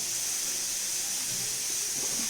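Mustard oil poured into a hot pan gives a steady, close hissing sizzle that holds evenly throughout.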